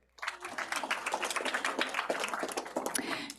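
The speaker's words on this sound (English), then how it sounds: "let's give them a round of applause" A roomful of people at a city council meeting applauds, a dense, steady patter of clapping hands that starts abruptly and carries on for about three seconds.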